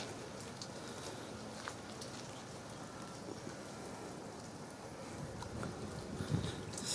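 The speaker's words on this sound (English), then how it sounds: "It's raining in here now." Rain patters steadily onto a surface near a car in a workspace during a 2000 Honda Accord front strut job, a continuous wash of drops with a few louder knocks late on.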